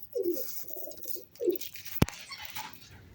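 Pigeons coo in low, soft rolling phrases, three distinct calls close by in a quiet setting, interrupted by a single sharp click midway.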